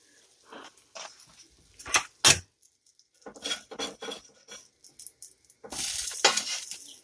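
French toast fingers on a buttered grill, heard as irregular scraping and clattering of a spatula against the metal surface, with short bursts of sizzling and a longer hiss near the end.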